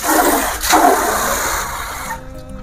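Water is poured steadily into a clay cooking pot holding cabbage, tomatoes, green chillies and coriander for cabbage dalma. The rushing splash is loud and close, then it stops abruptly near the end, leaving a faint background hum.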